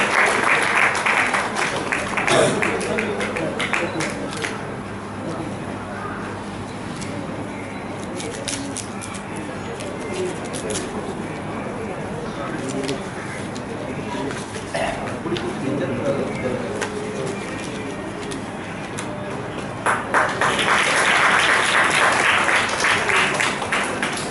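Audience clapping for Mr. and Mrs. Jegaseelan as first-copy recipients at a Tamil book launch swells loudly at the start and again near the end, with voices and murmuring crowd noise in between.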